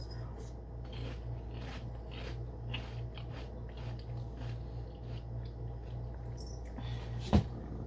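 Crunchy Eggo cereal is chewed close to the mic in a steady run of soft crisp bites under a low background hum, with one louder thump near the end.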